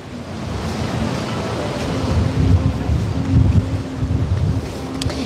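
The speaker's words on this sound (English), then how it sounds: "Wow, the water looks pretty rough." Rough sea water churns in a continuous, heavy wash of waves with wind buffeting the microphone, a steady low roar that swells and eases without any speech.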